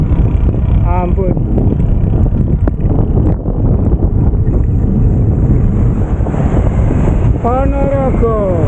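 Strong headwind buffeting a cyclist's microphone on a south-bound road ride, a loud continuous roar with gusty swells, and a brief passing vehicle with a harmonic whine near the start and end.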